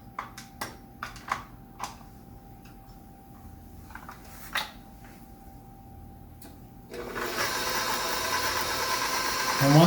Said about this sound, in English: we're going to use the paddle, and we're just going to mix it all together on a slow speed